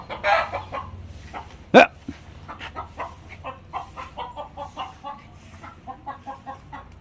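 A chicken clucks in short, repeated bursts at close range as water is poured on it, with one sharp louder squawk early on, in a noisy outdoor setting.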